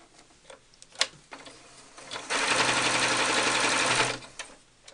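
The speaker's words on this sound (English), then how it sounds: "And then once you've stuffed it, you can just baste the bottom shut to keep the fiber fill inside." A sewing machine basting shut the stuffed cloth doll part: a few light clicks, then a loud, close, fast steady run of stitching lasting about two seconds before stopping.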